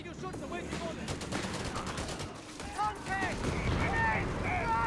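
Rapid bursts of light infantry gunfire from the Company of Heroes 3 video game, German Afrika Korps against US forces, cracking in quick volleys over a busy battle bed with whistling shells and near, loud impacts.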